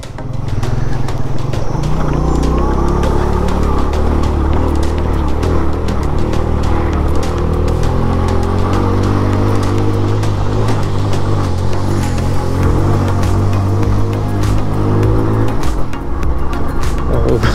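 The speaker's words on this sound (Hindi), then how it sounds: "गाइस स्टार्ट हो चुकी है ऑफ रोडिंग" Off-road vehicle climbing a wet mountain track, engine droning loud and steady close by with rattles and bumps from the rough ground.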